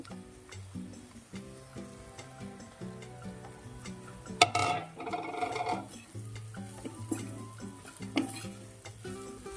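Poha tossed into hot spices in a pan, stirred with soft scraping and light ticking taps over a quiet, even sizzle.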